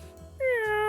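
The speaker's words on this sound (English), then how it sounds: "Did it sound like every other meow that I've ever heard?" A single cat meows clearly and close, a drawn-out falling cry after a short quiet lead-in.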